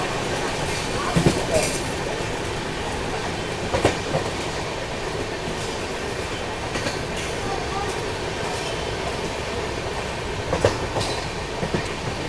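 A Humsafar Express train runs at steady speed on the rails, with a continuous loud rumble and rhythmic clickety-clack of wheels over joints, and occasional sharper knocks.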